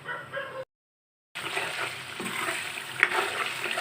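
Beef being sautéed in a pan, a steady frying sizzle with stirring scrapes that cuts off briefly near the start, then resumes and continues evenly, with one sharp clink near the end.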